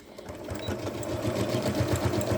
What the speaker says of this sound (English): now we're going to take our fabric and I'm going to bring my needle over all the way